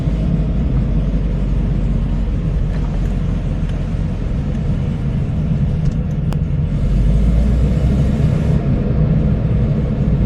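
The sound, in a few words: Peugeot 205 GTI 1.6 engine revving with a loud blowing exhaust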